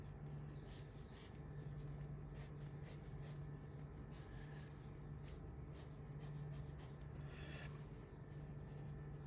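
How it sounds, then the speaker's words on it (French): A pencil traces over the contours of a sketched cube on paper, a faint continuous scratching with small strokes, close and quiet over a low steady hum. "J'appuie un petit peu plus les contours de mon cube ici."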